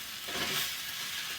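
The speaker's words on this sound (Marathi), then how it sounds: "फोडणी दिलेला थोडा." A brief, close sizzle and stirring scrape come from leftover flatbread pieces being tempered in hot oil in a pan.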